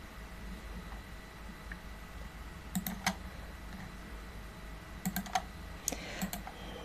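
Keys on a computer keyboard are tapped in a few quick bursts of clicks, close and fairly soft, spread over a quiet background hum with no speech.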